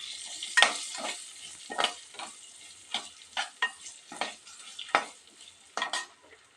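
Boiled ragi balls are stirred into a pan with oil, making a series of separate scraping, clattering stir strokes about once a second over a quiet background sizzle.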